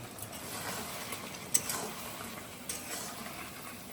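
Fried cauliflower and whisked sour yogurt going into a pan of hot, ready spices, giving a steady close sizzle with a few soft clinks and stirring scrapes, no voices.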